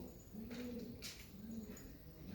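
Soft, low pigeon cooing in a couple of rolling phrases, faint under a steady background hiss and rustle, at Kenilworth Castle.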